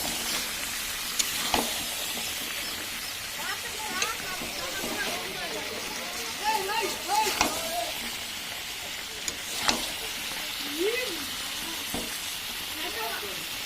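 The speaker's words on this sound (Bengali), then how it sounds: "দেখো মাংস ভালো মতন কষানো হয়ে গেছে, মাংস থেকে তেল ছাড়তে শুরু করেছে।" Meat sizzling steadily in oil in a pan as it is braised, a continuous bright hiss with occasional stirring clatters, while a person talks over the cooking.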